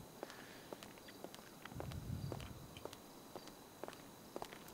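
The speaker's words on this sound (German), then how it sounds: "ich habe doch gerade Schritte gehört" Footsteps in GTA V: a steady series of faint, crisp steps on a hard surface, spread across the moment over quiet background hiss.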